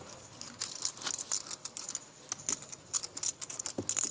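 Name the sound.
deck of playing cards being shuffled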